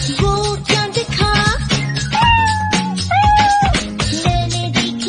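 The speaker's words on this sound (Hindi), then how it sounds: "मैंने देखी बिल्ली, म्याऊ म्याऊ म्याऊ।" Cat meows repeat in a Hindi nursery rhyme for babies, a series of bright, tonal mews over a musical backing, close and clear.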